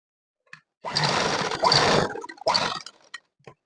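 A sewing machine runs in two bursts of rapid whirring stitches, sewing a school uniform shirt, close and steady with a brief pause between runs and small handling clicks around them.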